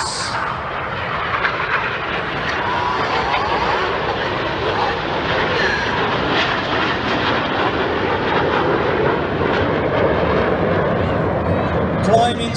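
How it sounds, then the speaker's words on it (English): A lone jet flying in at the Sunderland International Air Show, lining up to pass through the Red Arrows formation, its loud, steady roar sustained throughout as a commentator speaks over it. "Looking left, here comes a lone jet."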